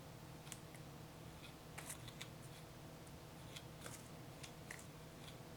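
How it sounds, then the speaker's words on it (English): Scissors snip through the roots of a rootbound Rhaphidophora tetrasperma (mini monstera) during repotting, a faint scattering of small sharp clicks and crisp cuts over a soft steady background. "I'm gonna be trimming off like this much, right around here."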